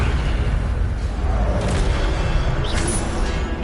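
A Leviosa levitation spell cast in Hogwarts Legacy: a dense, loud, rushing magical whoosh with low rumble that swells briefly and fills the whole moment.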